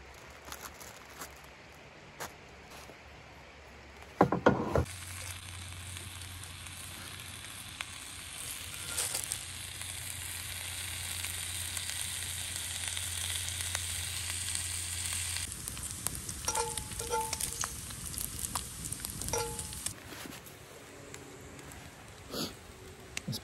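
Bacon frying in a pan outdoors in the woods, with a soft, steady sizzle and a brief clatter early on, fairly quiet throughout.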